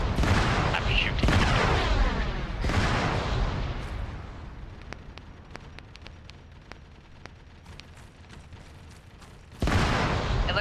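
Heavy booming blasts from Arma 3 gunfire, several deep explosive reports in the first few seconds, then a string of fainter distant cracks, and another loud blast at the very end.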